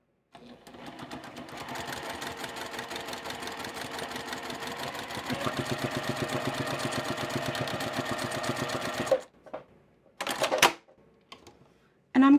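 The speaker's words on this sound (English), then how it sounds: "And sewing." A sewing machine runs steadily for about nine seconds, stitching pieced quilt block fabric for a star block, with a fast even mechanical rhythm, then stops, followed by a few short bursts and brief handling noises.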